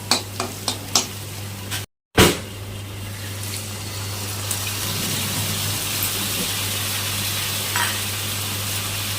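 Water poured onto chili powder in a hot pan for an egg omelette sets off a loud, steady sizzle that runs on after a few sharp clatters and a brief burst.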